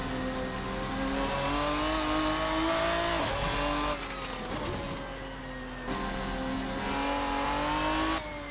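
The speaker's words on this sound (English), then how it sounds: "we are manually blipping the throttle on the downshifts into turn one" The RSS GT Ferruccio 57 race car's engine in a driving simulator revs hard, with sharp throttle blips on downshifts into a corner. Loud, continuous engine tone sweeps up and drops in pitch several times, with no talking over it.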